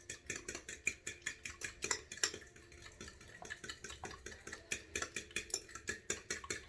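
Egg salad being stirred with mayonnaise in a bowl, a utensil scraping and clinking against the sides in a steady, quick rhythm of repeated strokes, close and moderately quiet with no talking.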